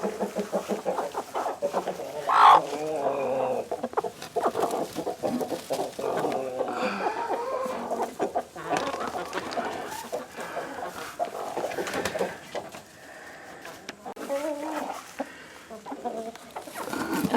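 Backyard chickens on a homestead cluck and murmur steadily around the coop in the morning, a busy mix of close and farther bird calls with occasional sharper squawks and no clear talking.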